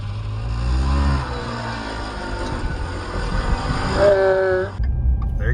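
A motorcycle engine roars and revs hard through an air wheelie on a road by a small municipal airport, a loud close drone rising in pitch before cutting off sharply, with someone talking over it.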